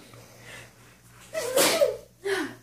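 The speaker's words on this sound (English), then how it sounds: "Bless you." A single sharp sneeze bursts out, followed shortly by a shorter breathy snort or second sneeze, close and fairly loud over a faint background hum.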